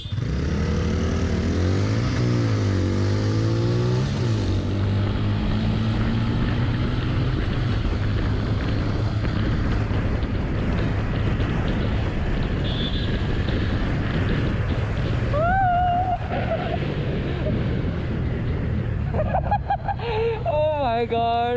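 A 2021 TVS Ntorq 125 Race XP Edition scooter is ridden on the street, its engine drone and wind rush running steadily throughout, with the pitch rising and falling and a few short chirps near the end.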